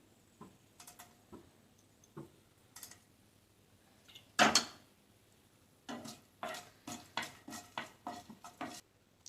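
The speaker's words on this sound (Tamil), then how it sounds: "இதில் இப்போ முதல்ல பட்டையும் கிராம்பும் போட்டுக்கலாம்." Cinnamon and cloves go into a pan of hot oil while preparing a Salem mango curry, bringing scattered light clinks and taps, one louder utensil knock, then a quick run of stirring clatter against the pan.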